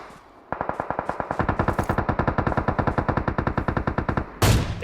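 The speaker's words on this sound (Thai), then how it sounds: "ขวาก็มีบอลยิงยิงกันอยู่สองตีอ่ะ" Sustained automatic gunfire from PUBG Mobile, a rapid, steady burst of evenly spaced loud shots for about four seconds, followed by a heavier blast at the end, with no talking.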